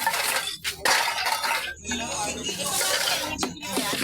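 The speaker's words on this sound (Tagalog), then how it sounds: "Puro lata pala ito." Tin cans clink and rattle as they are handled in a collection of scrap, a continuous jangle of metallic knocks with brief pauses, heard up close.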